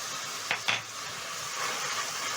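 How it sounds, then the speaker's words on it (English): Red onions, green onions, garlic and ginger fry in a pan for beef liver stew, a soft steady sizzle with two quick utensil clinks near the start. "So to my pan, I'm going to add in some red onions and green onions,"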